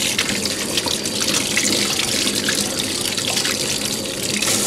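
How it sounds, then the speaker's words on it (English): A kitchen sink tap runs in a steady, full gush while hands are washed under the stream, close and fairly loud, with no talking throughout. "I need to wash my hands very quickly."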